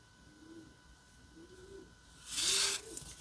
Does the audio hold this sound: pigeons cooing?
yes